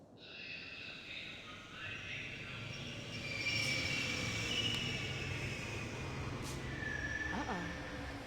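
A subway train in The Longest Journey rumbles steadily along the rails, growing louder midway, with thin metallic squeals and a brief tonal whine near the end over continuous low rolling noise.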